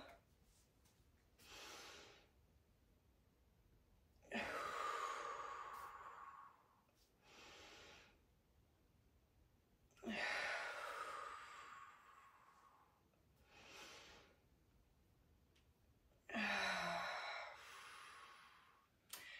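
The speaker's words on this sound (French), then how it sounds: "On va prendre 3 grandes respirations." Three slow, deep breaths at the cool-down of a full-body slider workout, each a long audible inhale followed by a breathy exhale, close and quiet with silent pauses between.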